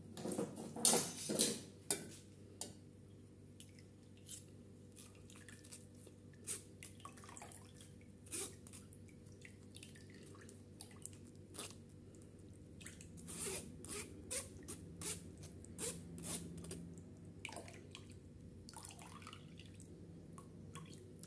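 Carrot juice is pressed through a large strainer, giving faint, scattered wet squelches, soft scrapes and light clinks against the mesh and bowl that come in irregular bursts over a quiet background.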